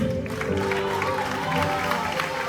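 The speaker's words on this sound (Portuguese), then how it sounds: "Aplauda ele." A church congregation at an Assembleia de Deus service applauds, dense clapping and crowd noise blending with sustained organ or keyboard tones and a faint voice underneath.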